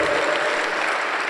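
A church congregation at a pastors' gathering claps loudly and densely in one continuous burst of applause that fills the room.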